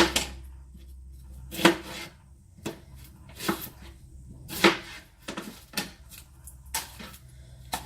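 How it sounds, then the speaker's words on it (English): A knife chops a red onion with the skin on, about a dozen sharp, irregular thuds on a board, close and clear over a quiet room, with no speech. "I am just going to roughly chop that up"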